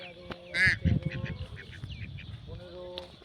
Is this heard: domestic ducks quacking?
yes